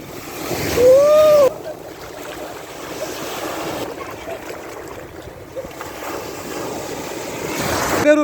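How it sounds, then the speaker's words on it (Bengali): Big sea waves at a beach in Chattogram wash and roll in a continuous surf roar with wind noise, steady and fairly close, with a brief tonal whine near the start. "বড় বড় ঢেউ বিশাল বড় বড় ঢেউ"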